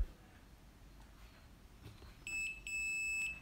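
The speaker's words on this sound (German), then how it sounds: "Jetzt piepst sie und jetzt ist sie einsatzbereit." Cordless electric pruning shears, a battery-powered ReClip 2 garden secateurs, beep twice when switched on: two steady electronic tones, close and fairly loud, following quiet background hiss.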